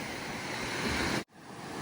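Black Sea surf washes onto a beach at Kurortne in Odesa region, a steady soft rush of waves with wind noise that cuts out abruptly partway through, then resumes more faintly.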